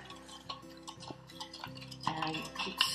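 A spoon stirring sugar into lemon juice and water in a container for homemade lemonade, giving a run of light clinks and scraping ticks against the sides, fairly close and quiet, with no talking.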